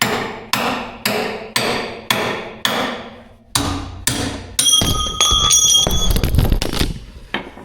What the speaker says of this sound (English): That was a pretty good launch of the chisel there. Hit right against the tripod.